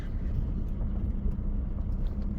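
A bakkie pickup truck rolls over a big hole on a rough detour road off the N14, a steady low engine rumble and road noise heard from inside the cab, with no talking.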